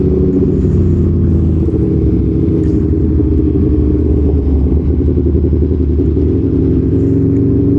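An Aprilia Tuono V4 1100 Factory motorcycle fitted with an aftermarket exhaust rides along, its engine a loud, continuous, deep rumble with steady throttle throughout, close and alone without talk.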